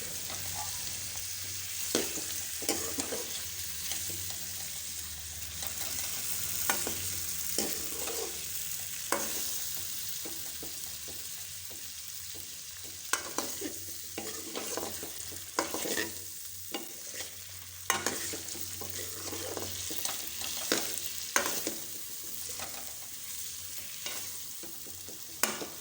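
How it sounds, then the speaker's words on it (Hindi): Ginger garlic paste frying in a pan with chicken and being stirred, a steady sizzle broken by repeated scraping clicks of the spoon, close and fairly quiet, with no talking. "अब इसमें हम अदरक लहसुन का पेस्ट डालेंगे, वो भी साथ में ही अब फ्राई हो जाएगा"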